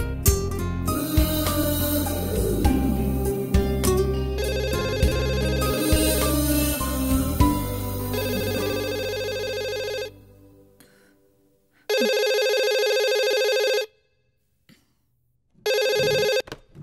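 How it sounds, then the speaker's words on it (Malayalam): A telephone rings loudly in a film scene: repeated bursts of a bright electronic ring, first over music and then alone, with two clear ring pulses separated by silence. "എന്നാ ഫോൺ എടുക്കാൻ ഇത്ര താമസം?"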